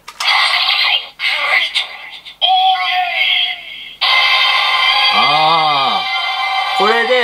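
A Kamen Rider Build DX Genius Fullbottle toy plays its electronic sound after a button press: loud synthesized tones and a sung, pitch-sweeping jingle with gliding melodic voice-like phrases, filling the whole stretch with brief gaps.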